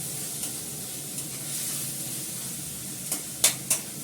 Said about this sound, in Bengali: এটাকে ভালো করে কষাবো, এর মধ্যে নুন টুন দিয়ে মাংসটা ছেড়ে দেবো, আলুটাও ছেড়ে দেবো